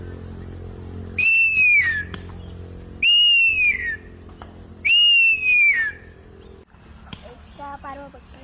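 A person whistles three long, descending piercing calls imitating a kite, evenly spaced with pauses, followed by faint talk.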